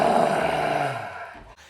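A person's voice imitates a lion's roar, giving one loud, drawn-out growling bellow that fades into a short breath at the end.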